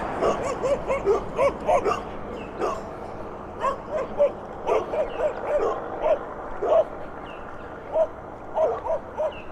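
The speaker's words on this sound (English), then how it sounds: "Lucky there's a fence and a little dog." A small dog barks and yips repeatedly from behind a fence along a walking route, sharp bursts coming in irregular clusters at moderate distance with a faint whine between, over outdoor background noise.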